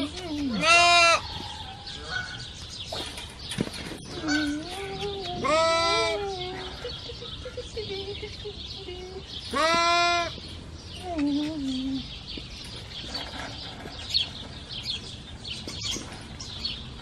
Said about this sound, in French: Les deux petites chèvres là, c'est mes préférées,